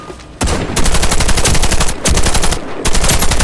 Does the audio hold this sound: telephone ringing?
no